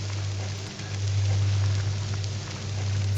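Acid rain in Skyrim sounds as a steady hiss of rain on surfaces over a constant low hum, a continuous looping ambience with no voices.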